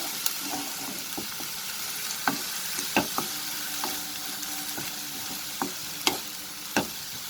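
Paneer paratha filling with coriander leaves sautéing in a pan over medium heat: a continuous gentle sizzle with scattered sharp scrapes and taps of a spoon stirring, close and fairly quiet.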